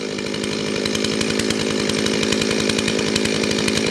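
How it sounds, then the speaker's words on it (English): Chainsaw with a dull, unsharpened chain cutting Australian hardwood on an off-grid homestead, a loud continuous engine whine with steady rapid chain chatter throughout, no talking. "Because it is a chain saw, it's not a blade saw"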